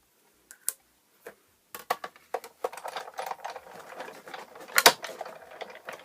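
Scissors snip a small rabbit head shape out of paper in irregular, close, fairly quiet cuts, sparse at first and then quickening into a busier run of crisp snips and rustles.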